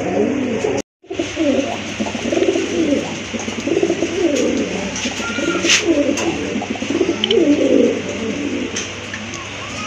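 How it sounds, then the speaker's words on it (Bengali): Rajgolla pigeons at a pigeon sale cooing repeatedly in a steady rhythmic series, loud and close, with a brief silent gap near the start and a few faint clicks. "আরেক জোড়া রাজগোল্লা কবুতর"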